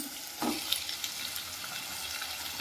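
Chopped tomatoes drop into a hot frying pan for village-style ladyfinger sambar, raising a steady, soft sizzle with a few brief splashes and clinks, with no talking.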